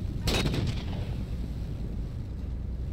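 A single loud burst of weapon fire in the Halo 4 video game lands near the start, then decays into a low, steady rumble of background game noise.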